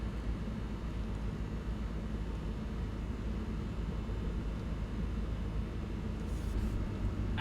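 Mitsubishi Montero in 4 high with the center differential locked, automatic in second gear, pushing through a desert sand trap on the Mojave Road: a steady, loud engine and drivetrain drone with road rumble, continuous and close, no talk.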